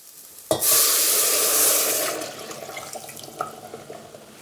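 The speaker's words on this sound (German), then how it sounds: "das Ganze gießen wir dann mit der Brühe auf" Broth poured into a pot of Krupnik barley soup over glazed onion: a sudden, steady splashing rush lasts about a second and a half, then tapers into softer trickles and a few drips.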